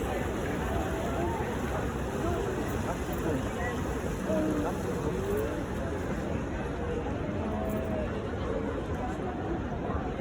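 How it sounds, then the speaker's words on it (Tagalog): A boat motor drones steadily over rushing water and wind, with people chatting faintly in the background throughout. "Hindi pa siya mag-i-start kasi may naikot pang bangka."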